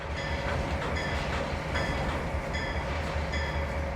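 A coal train with hopper wagons rolls steadily in the video game Trainz Simulator World Tour, with a continuous rumble and rhythmic clickety-clack of wheels over rail joints.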